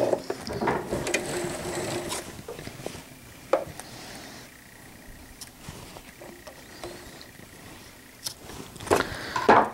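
A sewing machine runs a locking stitch while making a fitted crib sheet, giving a close mechanical whir with ticking, ratcheting clicks that speed up and slow in short bursts.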